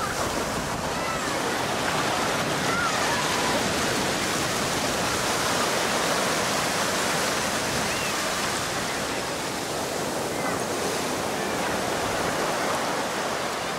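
Sea waves break on a beach as a dense, roaring wash of surf that stays loud and continuous throughout, close by, with no distinct pauses and no clear talking.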